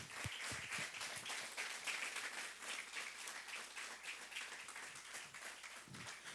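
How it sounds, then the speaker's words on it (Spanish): A church congregation claps in praise after a sermon, dense sustained applause with sharp individual hand claps near the start, steady and fairly loud throughout. "dale un aplauso al Señor."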